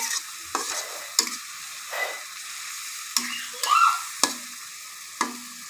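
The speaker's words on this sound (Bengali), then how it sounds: "হলুদের গুঁড়া, মশলাটা ভালোভাবে কষে নিতে হবে।" Spice paste with turmeric frying in a pan, soft continuous sizzling broken by several sharp, close scrapes of a spoon stirring against the pan at irregular intervals, no talking.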